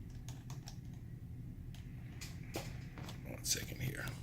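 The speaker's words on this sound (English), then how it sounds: "you're going to hold shift. Hold shift. And then you're going to click." Light computer keyboard key presses and mouse clicks come in a quick, quiet scattered run, close but soft, over a low steady room hum.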